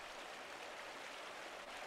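A waterfall in the video game Pentiment rushes as a soft, steady broadband hiss of falling water, faint and continuous without breaks, heard alone with no voices over it.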